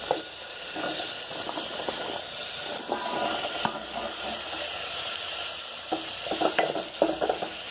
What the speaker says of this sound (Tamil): வெங்காயம் தக்காளி கொஞ்சம் வதங்கிடுது. நான் இந்த கொடுக்கா புளியும் போட்டுடலாம்.